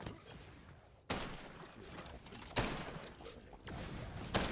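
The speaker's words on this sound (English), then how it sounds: "He placed mortars to the middle" Mortar fire in the block-building shooter game Block N Load, with four sharp booming blasts spaced about a second and a half apart, each followed by a rumbling tail over a steady noisy background.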